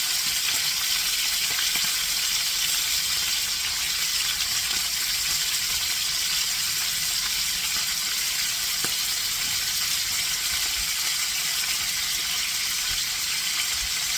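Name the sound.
beef fillet pieces frying in a pan for beef stroganoff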